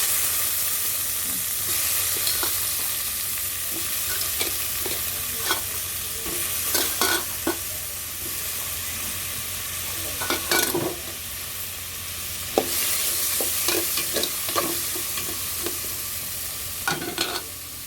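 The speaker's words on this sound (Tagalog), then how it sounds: "Gisa nyo yung mga ricado muna" Tomatoes and aromatics sautéing in a pan, a steady low sizzle with scattered clinks and scrapes of a utensil stirring, close and alone with no talk.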